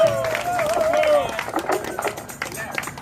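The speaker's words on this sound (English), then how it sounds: "Give him a big hand" A crowd at a reparations march claps for Dr. James McIntosh: a short burst of dense applause and cheering that fades quickly, mixed with a speaking voice and crowd murmur.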